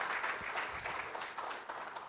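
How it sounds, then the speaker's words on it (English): Faint applause from a conference audience welcoming a panelist, a steady wash of clapping heard from a distance without any voices. "Give him a round of applause when he's coming"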